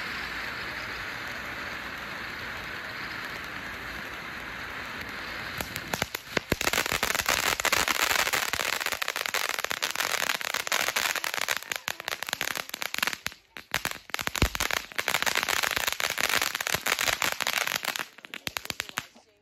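Bottle of Sparks consumer firework fountain, known for a strong crackle, starts with a steady hiss, then bursts into dense, loud, continuous crackling and popping that sputters, briefly dips and fades out near the end, with no talk.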